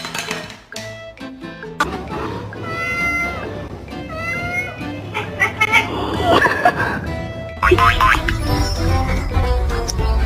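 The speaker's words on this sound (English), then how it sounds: "Let me hear a meow." A cat meows repeatedly, close and loud, with some clinking and bumping in the background and a person's voice briefly talking.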